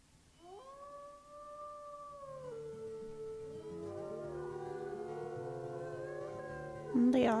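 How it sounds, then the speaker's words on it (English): A wolf pack howls in the video game WolfQuest, one long rising howl first, then several voices joining in overlapping, wavering tones that layer and build together, steady and sustained. "And they all do one last howl for him"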